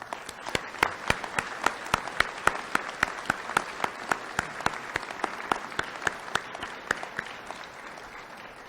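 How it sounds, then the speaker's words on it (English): Audience applause for teachers at a school promise signing ceremony: steady clapping from a modest crowd, with a few distinct close claps standing out in a rhythmic pattern before it tapers slightly. "could we please take a moment to applaud the hard work of these wonderful teachers?"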